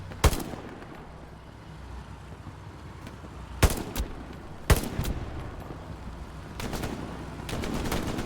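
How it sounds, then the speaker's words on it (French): Bursts of gunfire in the World War II shooter Hell Let Loose during an infantry squad battle, sharp cracks in a few separate volleys over a low battlefield rumble. "il y a un mec qui tire là"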